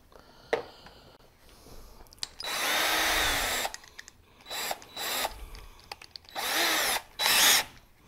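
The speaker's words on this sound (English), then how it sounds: "I guess we could just drill it from the front." A power drill whirs in several bursts while drilling a bolt hole in a Yamaha golf cart, one long run and then shorter ones, close by, with a few clicks and clatters between them.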